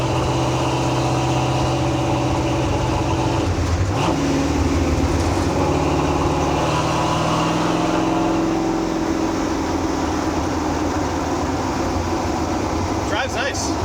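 A 1935 Ford Factory-Five race truck with a 427ci engine drives along with a loud, constant engine drone and road rumble heard from inside the cab, the pitch sagging and recovering once partway through.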